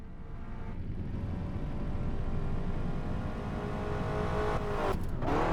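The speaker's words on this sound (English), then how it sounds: "I can hear a big engine coming!" A big car engine from the video game Crash Time 5: Undercover rumbles steadily and close, holding a thick low roar throughout and swelling slightly near the end as it approaches.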